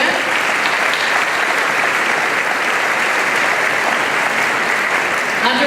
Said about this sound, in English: I'd also like us to give a round of applause to our promotion band